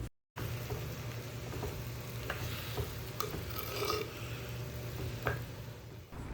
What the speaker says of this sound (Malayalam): അപ്പം വിനാഗിരി ഒഴിച്ച് കൊടുത്തിട്ട് നന്നായിട്ടൊന്ന് മിക്സ് ചെയ്തെടുക്കുകയാണ്.